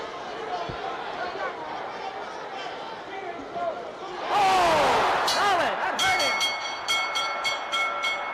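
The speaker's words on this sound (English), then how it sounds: "There's the bell, and they have to pry them apart." A ringside bell clangs repeatedly to end a heavyweight boxing round between Muhammad Ali and Joe Frazier, ringing in a quick series of strikes over a loud, roaring arena crowd and a commentator's voice.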